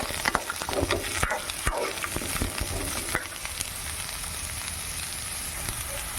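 Eggplant pieces go into hot oil with ridge gourd and bottle gourd for Kerala-style aviyal, giving a steady, close frying hiss broken by sharp clicks and scrapes of stirring, with no voices.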